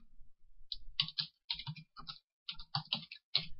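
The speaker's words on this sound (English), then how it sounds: "So you simply begin to type." Typing on a computer keyboard in quick bursts of close, crisp key clicks separated by short pauses, with no voices.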